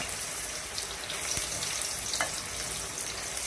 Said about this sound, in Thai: น้ำมันเริ่มร้อนเราก็จะเอามะเขือลงใส่เลยนะคะ